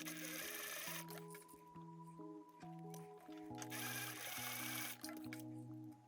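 Domestic sewing machine stitching a bar tack on a wedding dress, a steady whirring hum that runs in short repeated bursts with brief pauses between stitch runs, close and clear.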